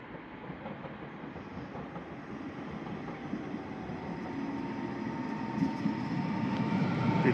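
Steady rumble and rattle of a moving train in Kraków heard from inside a carriage, quiet and continuous with a faint rhythmic clatter.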